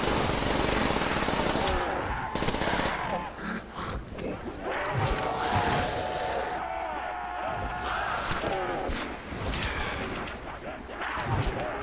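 Dense, rapid gunfire and explosions from Call of Duty: World at War multiplayer, loud bursts of automatic fire overlapping almost continuously, with someone talking over the game sounds.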